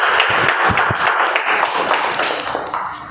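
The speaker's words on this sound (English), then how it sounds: "I think that's how we do a better round of applause" Audience members at a Toastmasters meeting clap in a brisk round of applause, dense individual claps at first that gradually thin and soften.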